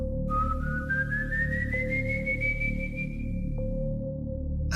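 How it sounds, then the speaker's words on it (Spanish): A person whistles a single long rising note, clear and fairly close, over a faint steady hum in a quiet rural setting. "Aquel silbido se escuchó muy cerca"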